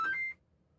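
A short electronic beep from a 3D printer finishing a job, a couple of bright tones in quick succession lasting about a third of a second, then cutting to near silence.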